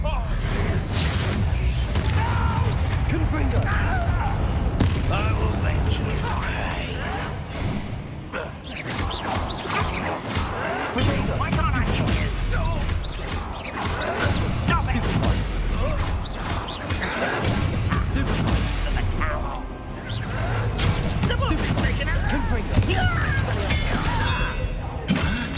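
Confringo blasting-curse explosions in Hogwarts Legacy inside a closed mine, repeated sharp crashes and shattering bursts over a dense, noisy battle soundscape, with intermittent voices.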